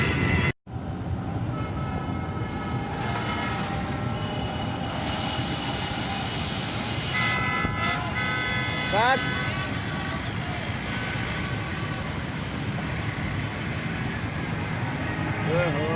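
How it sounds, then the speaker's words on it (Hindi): Dense traffic jam during a big rally in District Central, with a steady rumble of idling engines and a few car horns sounding near the middle, while voices talk over the noise throughout. "ट्रैफिक है कितना जाम है।"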